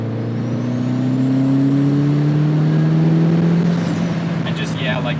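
A turbocharged NB Mazda Miata engine drones and climbs in pitch steadily at high RPM, loud and close from inside the car, with a brief whistling chirp near the end and voices talking beneath it.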